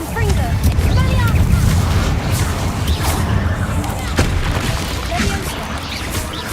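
Confringo fire spells are cast in the Hogwarts Legacy game, giving a dense, continuous rumble of blasts and crashes with spell effects. Several loud impacts sit over a constant booming low roar.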